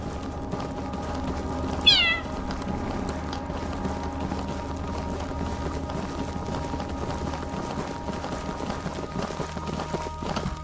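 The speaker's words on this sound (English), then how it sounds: "my buttons are just purr and meow" A cat's purring and meowing in a video game, a single short meow standing out over a steady low purring hum and background game sounds.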